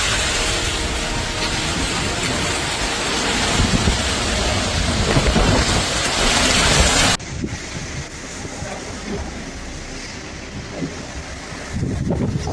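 Heavy rain roars steadily with deep rumbling thunder and wind underneath, loud and continuous, shifting slightly partway through.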